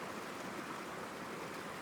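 Water flows around rocks in a V shape, a steady, soft rushing hiss heard from a distance without any voices.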